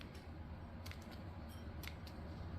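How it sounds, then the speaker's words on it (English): Scissors trim the lower leaves from a coleus cutting: a few faint, separate snips spaced out over a couple of seconds, almost lost under a steady hiss and low background rumble. "we'll cut the leaves off the bottom"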